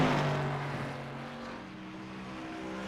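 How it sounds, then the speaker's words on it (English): A Gen 6 stock car engine circling Iowa Speedway in a racing video game, a sustained droning engine whine at steady pitch, moderately quiet and alone. "Let's turn down the music and bring in the noise, the engine from Jonathan Militia."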